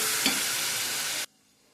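A spoon stirs chilli powder, garam masala and black pepper powder into a fenugreek mixture in a pan, making a close scraping sizzle that cuts off abruptly after a little over a second.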